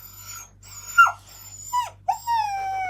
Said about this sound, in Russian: Собаки косточки не поделили.